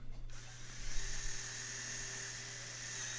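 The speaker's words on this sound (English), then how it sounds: "Drill from the inside out and then drill from the outside in." Drill boring a small pilot hole through cornhole board wood, a steady high whine that starts abruptly and runs continuously for about three seconds, close and alone.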